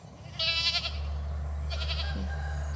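Goats kept in a pen at home bleat twice, with two distinct, fairly close bleats over a steady low background hum.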